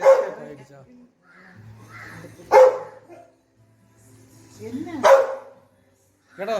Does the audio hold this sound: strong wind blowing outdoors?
no